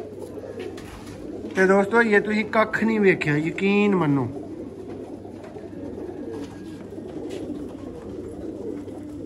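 Pigeons of Bankay Ferozpuri and Sialkoti breeds coo in a loud, close burst of repeated warbling calls lasting a couple of seconds, with someone talking before and after over a low background hum.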